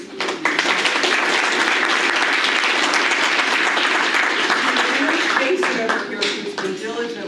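A dinner and community awards crowd breaks into sustained applause for an event coordinator, loud dense clapping with a few voices and cheers mixed in, easing slightly near the end.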